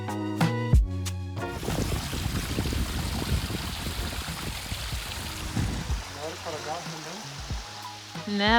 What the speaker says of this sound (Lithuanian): čia pilna tokių šaltinėlių yra